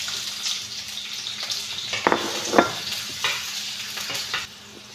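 Onions fry in a pan for homemade stir-fry noodles, a continuous close sizzle broken by several scraping stirs of a utensil. The hiss drops away right at the end.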